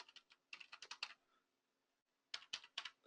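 Two quick bursts of keystrokes on a computer keyboard, close and clear, as a Linux install command is entered, with a short pause between the clusters of taps.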